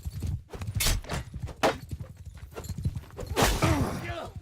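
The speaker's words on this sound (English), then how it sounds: "He is up on that nag. Get that brother off that horse." Horse hooves clip-clopping in a Bannerlord multiplayer skirmish battle, with rapid galloping beats and a neigh, alongside overlapping talk throughout.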